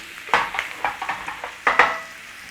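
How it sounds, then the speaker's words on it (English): Cajun-seasoned steak bites searing in warm oil, a quiet bed of sizzle broken by several close clattering knocks as the pieces are moved around the pan. "Now it's a sear on here, so be searing them up."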